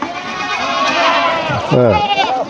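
Goats bleating on a goat farm in Ubon Ratchathani, Thailand, where grass is grown as feed; a couple of loud, close, wavering bleats rise over steady background noise and speech, with one strong cry near the end.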